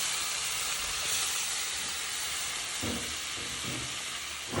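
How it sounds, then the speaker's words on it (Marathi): Boiled mutton goes into hot masala and oil on a wood-fired chulha stove for mutton curry, producing a loud, steady sizzle and hiss with a few soft stirring bumps near the end. "आता आपण जे बॉईल केलेलं मटण आहे ते टाकून घेऊया"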